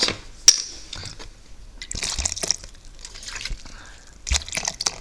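Sparkling water is poured into pancake batter in a home kitchen, giving splashy, dripping liquid sounds in a few short bursts separated by quiet gaps, with faint background voices.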